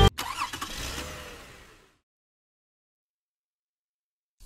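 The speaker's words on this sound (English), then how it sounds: "start your engine" A car engine cranks and starts, catching with a quick rev and then dying away into silence within about two seconds, fairly faint overall.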